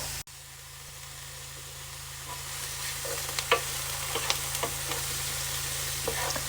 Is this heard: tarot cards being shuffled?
no